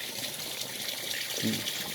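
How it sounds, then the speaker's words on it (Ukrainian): Water gushing steadily into a large garden watering tank for greenhouses, a continuous close splashing hiss with a faint low voice-like murmur near the end. "Пускаю десь куб півтора води."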